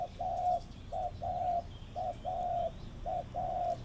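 A decoy dove coos in three repeated phrases, each a short note followed by a longer drawn-out coo, fairly close and clear over a low background hum.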